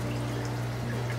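A cheap Amazon aquarium power head pushes water around a tank, giving a constant low electrical hum under a soft, steady watery wash.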